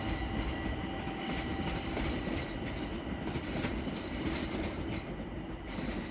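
A Class 378 train rolls into Stratford, its steady rumble and rhythmic wheel clatter holding at a constant moderate distance, with no voices.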